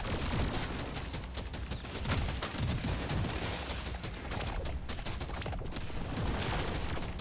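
A plasma carbine fires rapidly in Deep Rock Galactic Survivors, a dense continuous stream of crackling shots mixed with other battle noise at steady loudness, no talk.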